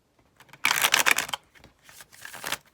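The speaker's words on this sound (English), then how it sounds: "let's go ahead and shuffle the cards" A deck of tarot cards is shuffled by hand in two bursts: a loud, rapid riffle of crisp flutters, a pause, then a softer second shuffle, close up and without talk.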